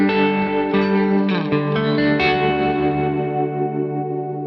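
Sustained electric guitar chords with tremolo, no ducking, through a Kemper Profiler ring out with a processed, effects-laden tone, a few notes changing before the sound settles and slowly decays.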